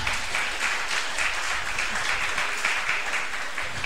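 A church congregation clapping in praise, dense continuous applause at a steady level throughout, close and full with no talk over it.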